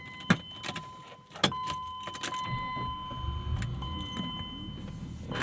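Keys jangle and click in the ignition of a 1997 BMW E36 M3 sedan with a manual swap, then the engine cranks and settles into a low steady idle inside the car, with no talking.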